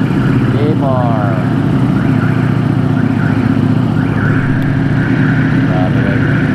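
A Ducati motorcycle engine idles steadily nearby in a continuous low throb, with faint voices and other traffic sounds around it.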